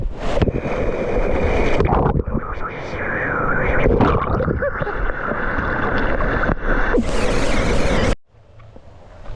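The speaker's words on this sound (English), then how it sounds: "There's like ripples on the slide, and as you go over them, just bang, bang." A rider rushes down a water slide at a Disney water park, bumping over ripples, with loud rushing water and wind buffeting the microphone throughout, then a sudden drop to quiet near the end.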